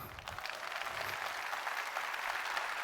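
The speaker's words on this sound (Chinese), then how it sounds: "我们少了一个失败的原因给自己一个掌声" An audience applauds at a Malaysian motivational business talk, a dense, continuous wash of clapping from many hands that holds steady for about three seconds.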